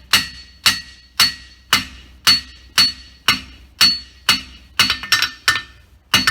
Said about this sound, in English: letting that hammer drop, chasing that bubble out onto